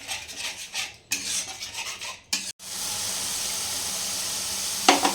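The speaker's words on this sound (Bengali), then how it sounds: "খুব ভালোভাবে নাড়তে হবে, তা না হয় দইটা ফেটে যাবে গরমে।" Yogurt stirred in a hot pan for chara pona fish kalia: scraping spoon strokes and choppy bursts of sizzling, then a steady, even hiss of frying with a sharp clink near the end, close by and without voices.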